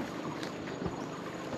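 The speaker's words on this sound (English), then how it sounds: "you can hear a long-tailed boat over there" A long-tail boat runs on a river in Laos, its engine a faint, distant drone under steady wind and ambient noise.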